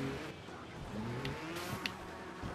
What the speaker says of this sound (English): It just loses revs at the top.